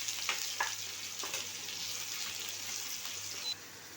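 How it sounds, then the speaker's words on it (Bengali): Chopped onion frying in hot oil, a dense continuous sizzle with faint stirring taps, steady and fairly quiet before dropping off abruptly near the end. "এবারে পেঁয়াজ কুচিটা দিয়ে দেবো। পেঁয়াজটা একটু ভালো করে ভেজে নেব।"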